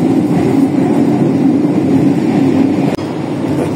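A loaded fuel tanker freight train bound for Madiun rumbles past with a heavy, steady low roar, heard close and loud from inside a Pasundan passenger train, with a sharp knock near the end.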